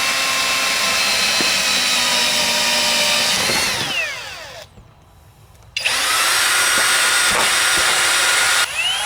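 A power drill whines loudly and steadily while installing a Tesla Wall Connector, spins down to a brief pause, then revs back up at full speed until it cuts off.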